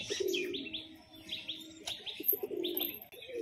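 Several loose pigeons coo and chirp at dusk, their calls repeating in overlapping bursts at moderate distance, with a low rumbling coo beneath brighter chirps.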